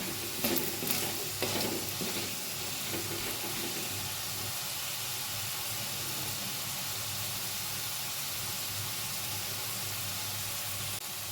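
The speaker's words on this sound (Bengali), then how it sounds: "আলুগুলো আমি একদম লাল লাল করে ভেজে নেব" Potatoes fry in oil in a pan for a Bengali home-style dish, a steady, even sizzle running throughout, with some clattering stirring noises near the start.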